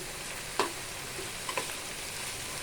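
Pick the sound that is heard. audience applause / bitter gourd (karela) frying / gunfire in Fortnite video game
bitter gourd (karela) frying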